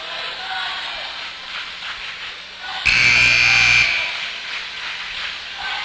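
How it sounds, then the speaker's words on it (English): A loud buzzer in a Massey Ferguson dealer–sponsored broadcast booth at a game sounds abruptly close for about a second, a steady tone over the booth's constant background hiss. "There's that buzzer again."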